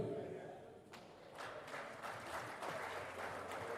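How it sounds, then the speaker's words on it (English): An audience at a Rotary Foundation seminar and dinner breaks into applause, a dense patter of clapping from many hands in a hall, with voices heard alongside. "Please, let's applaud."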